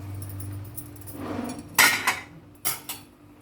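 A spoon stirs leafy greens cooking in a pan, Rayalaseema style, and then the lid is set back on. Two sharp metallic clanks stand out after a low, quiet background, with no talking.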